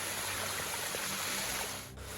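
Small unmarked waterfall on a forested Carpathian mountain ridge, a steady close rushing and splashing wash of falling water that fills the moment alone, with no voices.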